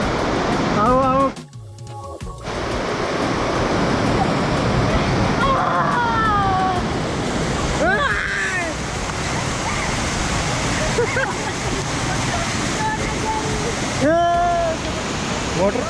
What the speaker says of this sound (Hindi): काफी ऊंचा वाटरफॉल है।